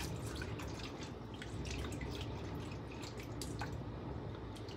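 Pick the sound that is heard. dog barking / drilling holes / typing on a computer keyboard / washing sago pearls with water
washing sago pearls with water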